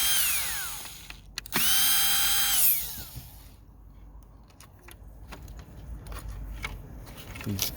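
A power drill whines as it backs out the side-mirror screws on an Infiniti QX56/QX80, rising in pitch through a short, loud run. Lighter clicks and handling noises of the work follow.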